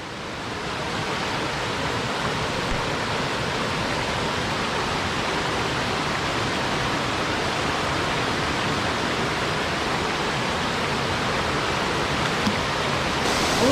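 A steady, broad rush of falling water roars continuously and evenly throughout, close and loud, with no other sounds.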